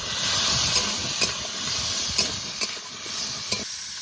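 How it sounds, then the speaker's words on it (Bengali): Cut potatoes fry in hot oil with chopped onion and green chilli, a continuous hissing sizzle broken by soft scraping stirs every second or so, close up. "এবারে কেটে রাখা আলু দিয়ে দেবো।"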